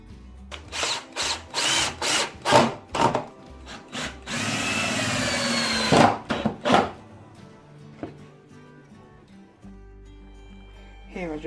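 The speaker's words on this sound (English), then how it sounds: "I then attached the front and back plates using glue and 3-inch screws" A power drill drives 3-inch screws into wood while assembling a lumber storage rack: bursts of whirring and chattering from a nearby drill, including one longer steady run, separated by short pauses and thuds.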